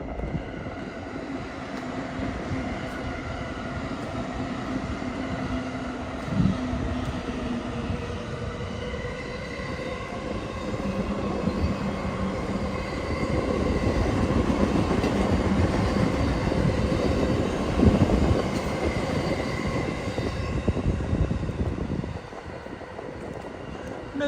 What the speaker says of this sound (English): walk next to the train tracks, because I know how much some of you enjoy watching Japanese trains